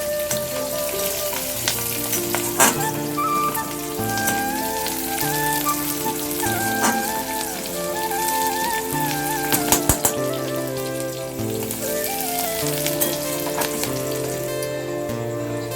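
Dry chilli chicken frying in a home kitchen pan, a steady, loud sizzle and crackle that runs throughout with occasional clinks of utensils and no talking.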